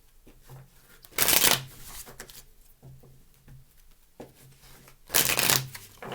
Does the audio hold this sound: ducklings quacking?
no